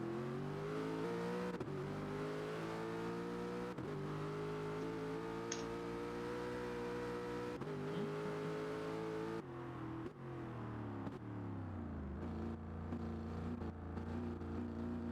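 Race car engines roar continuously during GT Sport qualifying at Laguna Seca in a video game, a loud sustained drone with pitch rising and falling through gear shifts, no voices.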